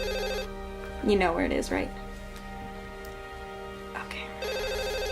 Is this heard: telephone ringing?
yes